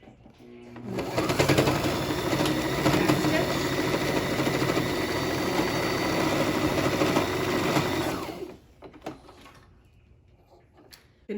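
A sewing machine stitches fabric face masks in a steady, close, loud whir for about seven seconds, then stops and leaves quieter handling noises.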